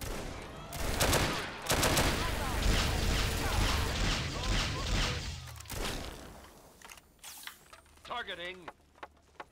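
Gunfire during a fight with raiders in the game Fallout 3, dense bursts of automatic shots and loud blasts filling the first half, then scattered single shots and mechanical clanks as the firing thins out.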